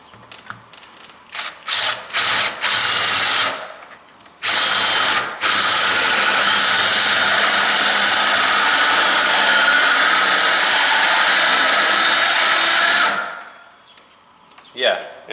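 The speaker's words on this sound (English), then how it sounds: "So now we're just drilling the hole." A power drill bores a hole through a metal door for a deadbolt, whining loudly and close up; several short bursts give way to one long, steady grinding run that then winds down.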